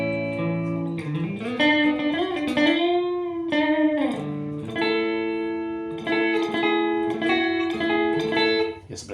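Clean electric guitar tone from a Nux MG-400 on the bridge-middle pickup plays a short melodic phrase of sustained notes and bends, clear and undistorted with no talking.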